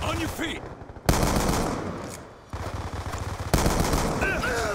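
Dense automatic gunfire from Call of Duty: Black Ops 2 multiplayer, loud sustained bursts of rapid shots with abrupt cuts between volleys, with faint game sounds underneath.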